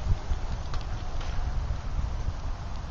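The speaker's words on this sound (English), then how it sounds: "A little windy out here." Wind buffets the microphone in a steady low rumble, gusting unevenly throughout with no voices.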